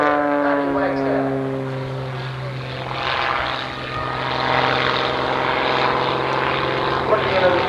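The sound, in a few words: Patty Wagstaff's aerobatic airshow plane climbing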